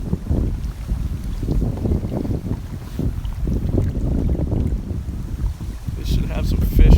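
Wind gusts steadily across a boat on the water during smallmouth bass fishing, a continuous low rushing roar with microphone buffeting, with faint movement noises on board.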